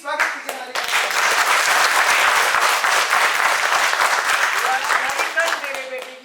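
An audience at a children's school theatre festival in Shimla claps loudly and continuously for about six seconds, a dense roar of hands with a few voices mixed in.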